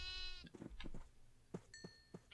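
Several sheep bleat in the Minecraft video game, a run of short, close, fairly loud cries with no talk.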